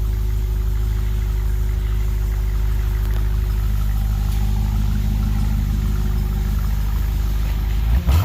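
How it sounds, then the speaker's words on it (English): A 2021 Dodge Durango Hellcat with its factory exhaust idles steadily, a deep, even low rumble held close and constant before a brief shift at the very end. "this is factory exhaust"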